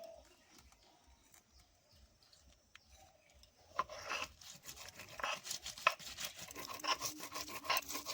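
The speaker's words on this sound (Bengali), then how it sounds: "ভাজা জিনিসগুলো এখন আমি বেটে নিচ্ছি" Fried ingredients for a raw banana kofta curry are ground into a paste. Quiet, irregular rubbing and scraping strokes become busier and louder partway through, with no talk.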